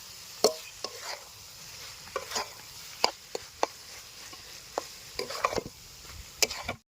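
A spoon stirs chicken filling with garam masala in a pan, making sharp, irregular clacks and scrapes over a low, soft sizzle, close by and without speech.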